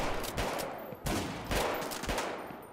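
Gunfire rattles in dense, continuous bursts in Vicewave 1984, a GTA-style video game. The shots run together like a fusillade at a fairly low level, with no talking.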